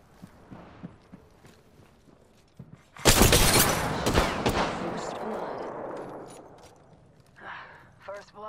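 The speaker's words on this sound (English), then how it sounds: "Shots fired, and they're hitting me." Weapon fire in the video game Apex Legends: a sudden loud burst of rapid gunshots hits midway, then rattles on and slowly fades, with quiet footsteps and game sounds before it.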